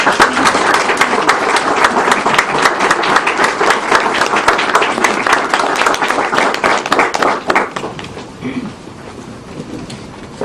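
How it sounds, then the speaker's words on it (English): An audience applauds at a library dedication ceremony, sustained loud clapping from many people for about eight seconds before it dies away into quieter room murmur. "I'd like to, again, give them applause for you."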